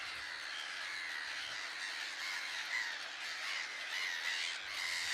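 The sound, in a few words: bird colony squawking on Musambwa Island, Lake Victoria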